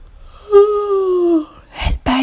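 A storyteller's voice imitates a yawn in a calm bedtime story, a long falling voiced sigh, then a breathy exhale and a short vocal sound, close and clear.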